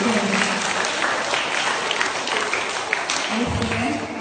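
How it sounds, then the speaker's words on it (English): Audience applause at a school assembly after a presentation, a sustained dense wash of clapping at steady loudness with some crowd murmur underneath. "Did a good applause for them?"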